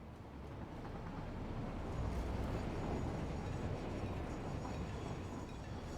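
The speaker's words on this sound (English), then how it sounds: "I'm going to continue to keep an eye on trains as they come in." Trains rolling into a station in the video game Satisfactory, a steady low rumble of rolling cars that builds slightly and carries on evenly, fairly faint and with no talk.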